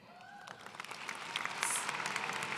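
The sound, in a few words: commencement audience applause for students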